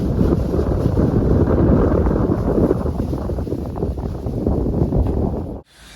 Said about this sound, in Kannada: ಇವತ್ತಂತೂ ಸಿಕ್ಕಾಪಟ್ಟೆ ಗಾಳಿ ಇದೆ